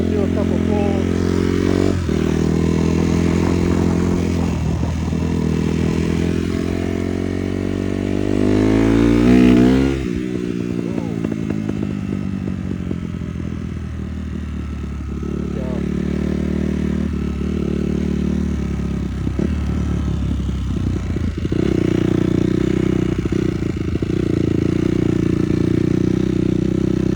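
A Honda CRF250 dirt bike engine runs loud and close, revving up through a couple of rising pulls before settling into a steady throaty idle and drone.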